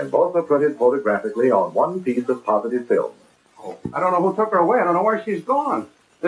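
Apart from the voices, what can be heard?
None of the usual background noises is heard.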